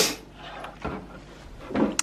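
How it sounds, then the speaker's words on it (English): Plastic LEGO panel slid aside on the Creator Detective's Office set 10246, giving a few faint, short scraping and clicking sounds at close range, with small knocks and a sniff in between. "So we just have to slide another panel out of the way here."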